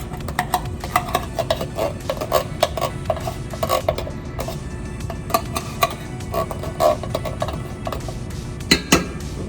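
A spoon stirs canned black beans in a pot in a dorm-room kitchen, scraping and clinking in a steady, busy rhythm of close metallic taps with no talking.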